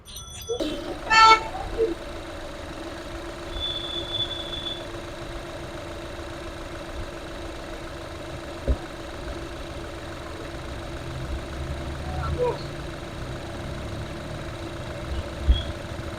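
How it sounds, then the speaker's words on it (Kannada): A Skoda Fabia diesel car in a showroom starts with a brief loud crank, then settles into a smooth, steady idle hum, with a few faint knocks and clicks around it. "ನೋಡ್ಬೋದು ಇಂಜಿನ್ ಸ್ಟಾರ್ಟ್ ಆಗಿದೆ, ಎಷ್ಟು ಸ್ಮೂತ್ ಇದೆ ಅಂತ."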